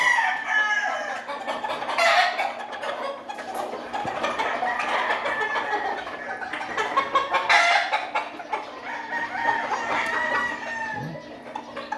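Rooster crowing repeatedly with clucking between crows, loud and close, from a gamefowl being conditioned for fighting, with no talk over it.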